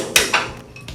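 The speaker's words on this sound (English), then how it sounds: "I'm going to use a punch and a hammer to push it all the way up through" A hammer strikes a punch to drive out a rusty bolt during a Chevrolet C20 teardown in a shop: two sharp metallic clanks close together, then a fainter ringing tap, close by and with no speech.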